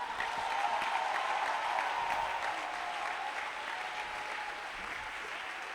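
A church congregation applauding during a sermon, a sustained, dense clapping from many hands that holds steady and slowly fades, with faint voices underneath.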